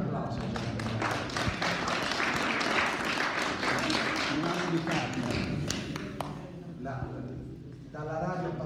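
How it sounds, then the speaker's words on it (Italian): Applause from journalists at a Florence mayor's Christmas greetings event, honoring a colleague; dense clapping runs for several seconds alongside speech, then fades into talking. "facciamogli un applauso."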